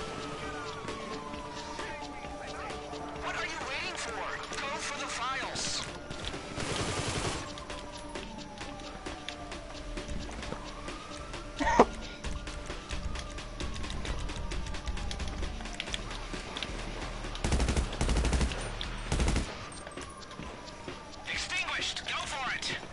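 Gunfire from the video game GTA V, scattered shots and louder bursts over a steady engine-like drone, with people talking throughout the firefight.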